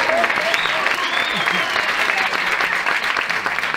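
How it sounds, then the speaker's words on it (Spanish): An audience at a 2006 village festival in Albelda de Iregua applauds a hostess, loud, dense clapping throughout with a few voices calling out over it. "un fuerte aplauso para mi azafata Marisol"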